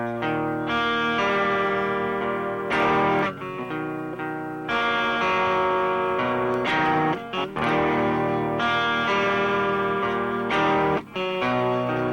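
Distorted, wavering musical tones play through a real VHS tape, thick harmonic chords with warbling tape character that shift every few seconds with brief dropouts, continuous and fairly loud, no voices.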